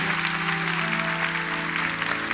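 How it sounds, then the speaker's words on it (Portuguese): A church congregation bursts into dense, sustained applause, many hands clapping steadily and loudly throughout, with faint voices and a held musical tone underneath. "Pode aplaudir."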